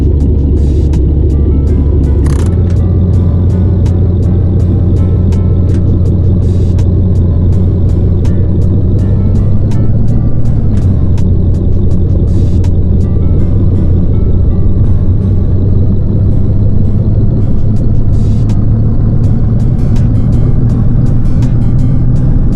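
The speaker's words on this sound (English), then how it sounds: "it's time to test the speed and acceleration of the VW Caddy pickup" A VW Caddy pickup engine in the A Long Road video game drones loudly and steadily while accelerating, a continuous low rumble that rises slightly in pitch over time, with faint clicks on top.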